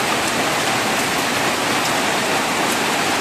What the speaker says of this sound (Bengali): এত সুন্দর বৃষ্টির সাউন্ড